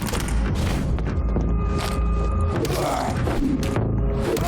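Gunfire in the video game Vampyr: a heavy booming shot with mechanical clatter, dense and loud over busy game sound, with no one speaking.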